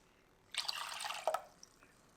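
Vinegar pours into a pot for cucumber pickle brine with soy sauce and sugar water, a soft, close splashing trickle of about a second, with a few faint drips after.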